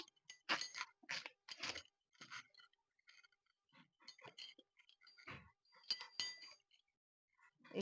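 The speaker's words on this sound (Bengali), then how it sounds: "এবার ওলকপিটা আমি কেটে নিচ্ছি" A knife cuts through a kohlrabi on a board, close up: a run of crisp, crunchy chops and light clinks in an irregular rhythm, with quiet gaps between strokes and no talking.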